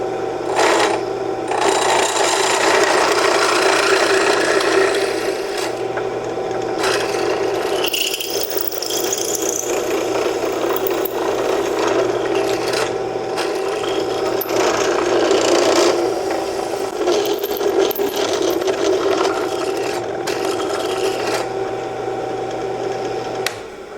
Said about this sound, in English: let's go ahead and drill this